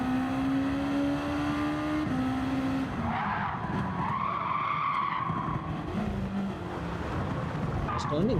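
In a racing video game, a car's tires lock and squeal under braking with ABS off, over a continuous engine drone and shifting revs while someone talks throughout.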